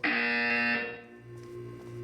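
Loud electronic buzzer from the Portal 2 video game wellness exercise, a harsh tonal blare that sounds for under a second and then cuts to a lower, quieter hum.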